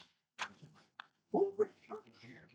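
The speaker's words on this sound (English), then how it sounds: "I'm sneezing like crazy" A sharp sneeze bursts out after a quiet pause, followed by a shorter second burst and some low murmuring.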